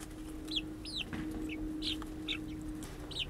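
Chickens clucking and calling in a backyard garden coop, several short, distinct bird calls scattered over a low steady hum, fairly quiet with no one speaking.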